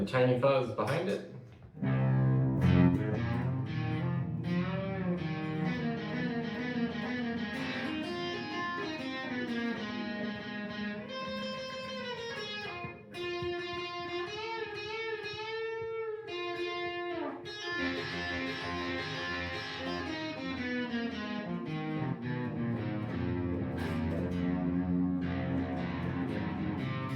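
Electric guitar in open C run through a small fuzz pedal with Borealis reverb behind it, its gritty, saturated notes and bending lines ringing out in a reverberant wash, played alone and fairly close.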